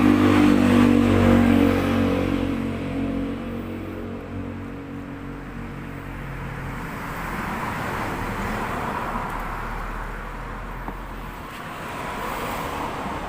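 A small Yamaha DT100 motorcycle engine runs loud and close, revving up and down in rough, buzzing bursts with a steady mechanical rattle underneath.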